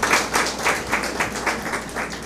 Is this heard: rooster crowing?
no